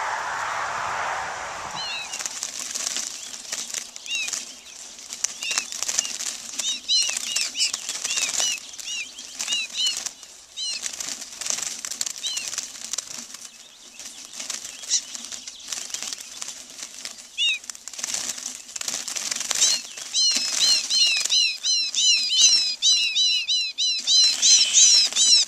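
Small songbirds such as redpolls, goldfinches, purple finches and chickadees flutter and beat their wings inside a wire banding trap at a station in Bigfork, Minnesota, giving steady close-up flapping with frequent high chirps and calls throughout.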